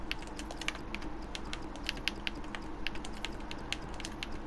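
Rapid keystrokes on a computer keyboard while entering a name during a football career-mode game setup, irregular clicks of close, moderate loudness over a steady low background hum.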